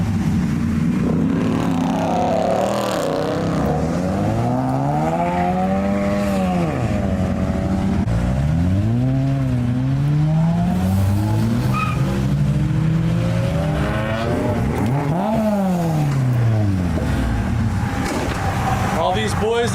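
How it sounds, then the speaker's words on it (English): Cars slide and drift on a rain-wet road, engines revving up and down in sweeping surges with tire noise, loud and continuous while someone talks over it. "the dumbest person is sliding their car in the rain"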